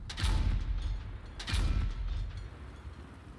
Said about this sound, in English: Can we just once again listen to this cannon?